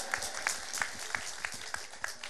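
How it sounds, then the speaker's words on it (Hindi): A crowd applauds loudly at a temple inauguration ceremony in Kolsar, Purba Medinipur, West Bengal, with steady dense clapping and distinct louder claps standing out at regular intervals. "एक बार जोरदार ताली बजाओ"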